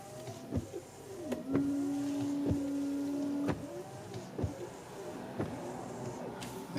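Subaru Forester windshield wipers fitted with Bosch Aero Eco blades sweep back and forth in a steady rhythm, each pass marked by a soft motor whine and a thump at the end of the stroke, with one longer steady whir.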